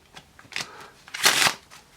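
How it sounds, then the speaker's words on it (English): A deck of Fontaine playing cards is riffle shuffled close up, giving a brief soft riffle followed by a louder crisp flutter of cards interleaving and a light tap as they settle. "You can even see just doing a riff shuffle"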